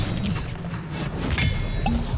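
A Confringo blasting spell erupts in the Hogwarts Legacy video game, a dense rumbling explosion with crashing impacts and a whooshing tail, loud and close, with no talk over it.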